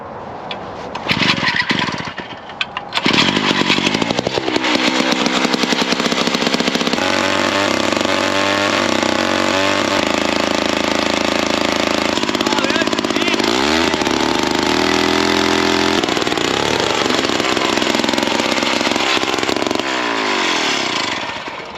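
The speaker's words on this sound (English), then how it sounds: "Well, I just drilled my first ice hole." A gas-powered ice auger drills a hole through thick lake ice. The engine starts, then runs loud and close for about twenty seconds, its pitch shifting as the bit bites and labors.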